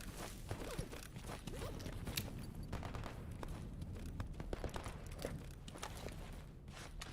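Gunfire in the GAMMA Renegade video game, dense irregular bursts of shots crackling continuously through the scene at moderate distance, with clustered volleys overlapping rather than single isolated reports.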